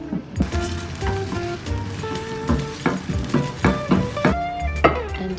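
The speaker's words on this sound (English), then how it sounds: "I scramble up 2 eggs with 1 egg white and some olive oil." Two eggs and an egg white scramble in olive oil in a pan, giving a close, steady sizzle broken by sharp clicks and scrapes of a utensil against the pan.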